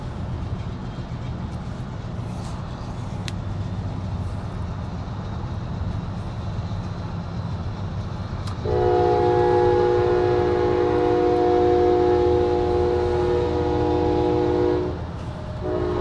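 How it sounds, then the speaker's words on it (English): A train rumbles steadily close by, then a loud, sustained horn blares for several seconds before cutting off. "Kind of paralleling our train over here"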